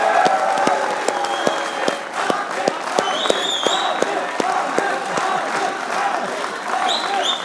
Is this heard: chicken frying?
no